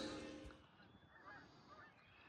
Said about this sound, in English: The geese are returning.